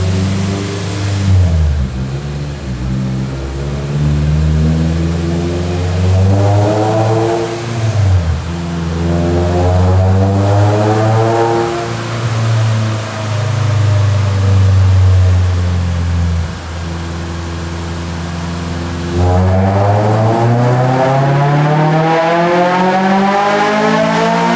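Acura TSX with a 3-inch exhaust and Type-S pump revving hard on a dyno, loud and close, engine note climbing through repeated rising pulls with brief drops between them, no talk.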